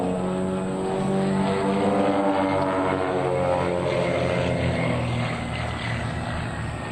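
Propeller aerobatic plane flying a barrel roll at a military air show, its engine roaring loud and continuous for several seconds with a slowly shifting pitch, no voices over it.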